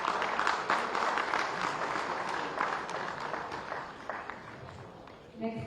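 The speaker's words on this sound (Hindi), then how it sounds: "जोरदार तालियां के लिए।" Applause from the audience at a security leadership award ceremony in India, a dense, steady wash of clapping lasting several seconds and tapering slightly toward the end.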